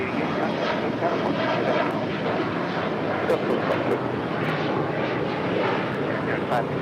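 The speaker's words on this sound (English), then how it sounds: "This is Turkish Airlines Flight 180 getting ready to take off to Istanbul" Turkish Airlines jet readying for takeoff to Istanbul, a continuous loud engine roar filling the scene, with a voice speaking over it.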